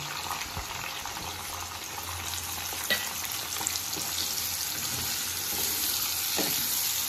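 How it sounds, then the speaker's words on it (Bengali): A soaked paste of chili, cumin and coriander frying in oil for a fish curry, a steady close sizzle with a few faint knocks of a stirring spoon and no talk. "এটা 2 মিনিট পর আমি নিয়েছি যে মশলাটা আমি ভিজিয়ে রেখেছিলাম, লঙ্কা জিরে ধনে ওগুলো, এটা আমি এখন দিয়ে দিলাম।"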